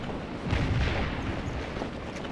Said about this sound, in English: as the artillery bangs away